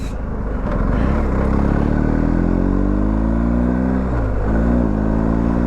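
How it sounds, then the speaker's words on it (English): A 2022 BMW R1250 GS Adventure motorcycle engine revving up through a gear change, a loud close drone rising in pitch, briefly dipping at the shift, then climbing again. "Good gear change, Martin, good gear change."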